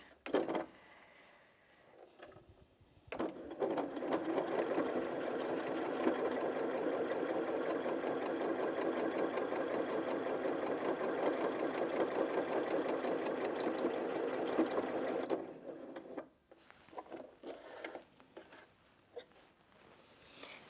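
A Janome Sewist 740DC sewing machine stitches slowly through eight layers of fabric, a steady mechanical hum and needle clatter running for about twelve seconds, with quieter handling before and after.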